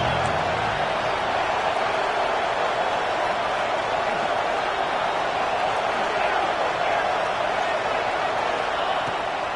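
A packed American football stadium crowd roars continuously on third down at a game against Baylor, a dense, loud wall of cheering and noise with no breaks.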